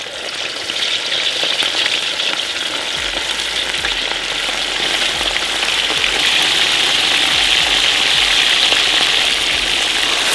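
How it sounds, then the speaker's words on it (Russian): Meat fries in a hot pan with a loud, steady, close sizzle and crackle that runs continuously without any talking. "Теперь отправляем жарить мясо."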